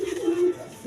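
A red Indian Bombay pigeon gives a single short, low coo, close and clear against faint background noise.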